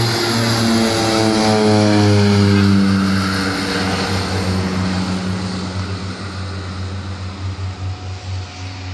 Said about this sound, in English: That was another short takeoff.